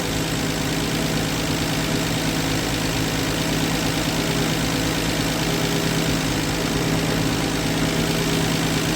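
A 1965 Plymouth Valiant slant six idles loud and close, a smooth, even hum with a steady low throb and no breaks, with no voices over it.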